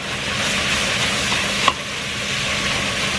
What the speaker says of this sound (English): We're giving this a little saute.